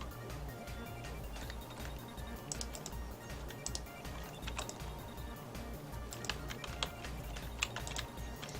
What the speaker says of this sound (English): Yay, typing.